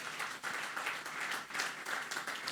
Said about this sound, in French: Est-ce qu'on peut acclamer très fort pour les Seigneurs?